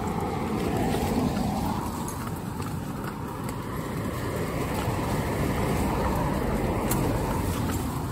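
Small cart wheels roll steadily through leaves behind Ted, a Shetland pony in shaft training in Stockbridge, giving a continuous close rustling crunch with faint hoof clops mixed in.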